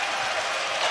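A basketball crowd roars for Alabama at an Alabama versus Auburn game, a brief burst of dense cheering and clapping from a packed arena.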